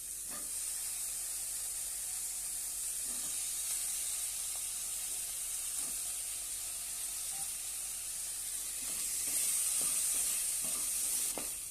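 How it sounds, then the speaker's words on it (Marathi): Potatoes and field beans sautéing in oil for a spicy curry, a soft steady frying hiss with faint occasional stirring clicks, fairly quiet and unbroken, without speech. "थोडा वेळ आपण तेलामध्ये परतून घेऊया"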